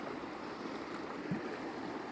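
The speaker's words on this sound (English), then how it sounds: "So I'm paddling in a river" Cold, clear river water in Yellowstone National Park rushes steadily around someone wading in it, a constant close wash of flowing water with one small splash.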